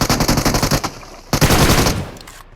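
Rapid bursts of automatic gunfire in a video game, two strings of loud, close shots with a short gap between them, and no talking over them.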